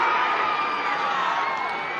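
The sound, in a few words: lacrosse game crowd shouting for a penalty flag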